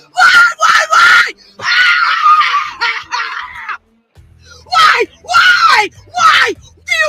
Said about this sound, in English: this woman took her meltdown to a whole new level, violently screaming in her car